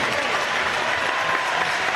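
Crowd applause fills the stands at a women's handball league match, steady dense clapping throughout, loud and continuous with no pauses.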